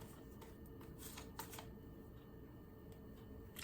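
Tarot cards are shuffled close by, a quiet soft riffling and flicking of cards with a few sharper slaps over a steady low background.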